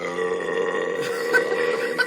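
A man's long, drawn-out burp rumbles steadily for about two seconds, loud and close, with no talking over it.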